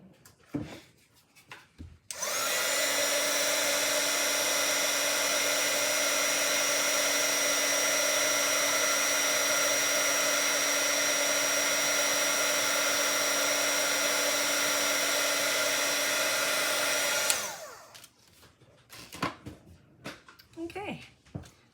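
A heat tool runs at a steady, loud whirring blow for about fifteen seconds while heating a stamped card, switching off abruptly, with soft handling noises before and after.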